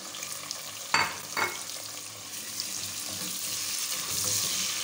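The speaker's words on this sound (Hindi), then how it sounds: "प्याज को हमने गोल्डन फ्राई करना है।" Onions tossed into hot oil with garam masala, a steady close sizzle with two sharp stirring scrapes early on and then continuous frying hiss.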